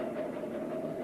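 A train runs on its tracks through a tunnel toward a forest in a dramatized story, a steady, close rumbling roar with a faint rhythmic clatter that fills the whole short moment with no voices over it.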